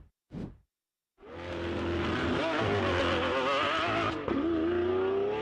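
A Lamborghini Aventador SVJ engine plays as a sound in a car-guessing quiz: a short rev burst, a gap, then a loud, sustained high-revving V12 howl with rising and falling pitch and a brief dip before it roars again.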